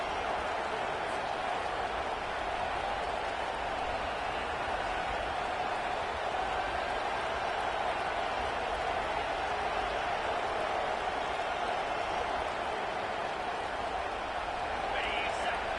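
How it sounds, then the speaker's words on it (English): A stadium crowd rises in a football video game on third down, a dense sustained roar of the audience with scattered applause, steady and loud with no pause. "Decibels rising as the crowd gets behind this defense on 3rd down"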